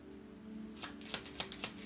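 Tarot cards being shuffled up close, a short burst of quick riffling flicks and soft slaps that grows into several crisp snaps toward the end.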